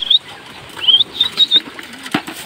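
Pigeon flapping its wings while entering its loft, a few quick bursts of wingbeats close by with short high chirping squeaks between them and a sharp knock near the end.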